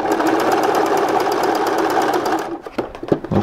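Sewing machine stitching a buttonhole, a loud rapid mechanical rattle running steadily before stopping, followed by a few separate clicks and taps.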